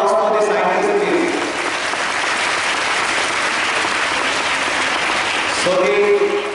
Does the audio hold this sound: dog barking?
no